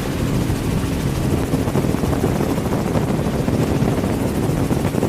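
A helicopter roars steadily and loudly, a constant rumbling drone with rotor chop filling the whole stretch, as if heard from inside the cabin.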